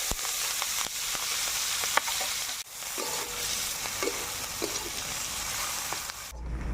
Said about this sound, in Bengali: লঙ্কা, পেঁয়াজ, রসুন একসঙ্গে তেলে ভেজে নেব।